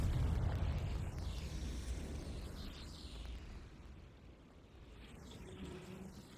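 Confringo spell blast in the video game Hogwarts Legacy, a deep rumbling explosion that booms loudly at first and then rolls on, slowly fading, with no voices over it.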